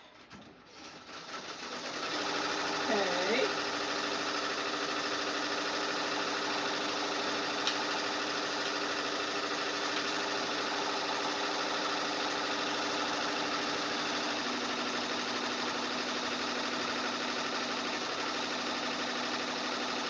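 An embroidery machine stitches a beach towel with a steady, close mechanical whir and rapid needle rhythm that starts after about two seconds and runs on evenly to the end.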